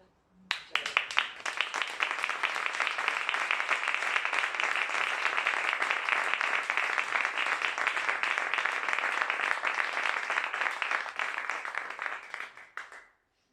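Applause after a poetry reading breaks out suddenly and holds as a loud, dense, steady clatter of many clapping hands for about twelve seconds, then stops abruptly.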